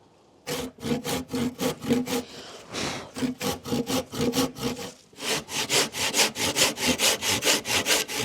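A wooden roof board being cut at an angle with a handsaw, rapid rhythmic back-and-forth rasping strokes, loud and close, pausing briefly twice before resuming at a quicker pace.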